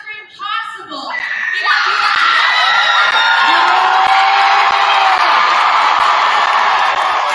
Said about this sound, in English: Can I get the loudest scream possible?